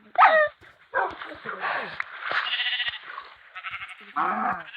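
Several dogs bark and yelp in quick, overlapping bursts at moderate distance, with a few pauses between volleys.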